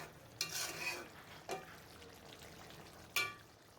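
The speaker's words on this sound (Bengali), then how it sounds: "এখানে রান্না করতেছি কলিজা ভুনা" Liver bhuna (kolija bhuna) cooking in a pan, with three brief scraping stir strokes over a quiet, faint sizzle; no one speaks.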